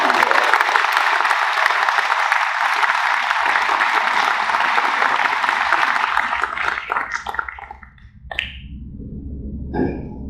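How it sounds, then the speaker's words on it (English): A lecture audience gives a round of applause, dense clapping that holds steady for several seconds, then thins out and fades into scattered claps and a few murmurs. "So again, a little round of applause for President."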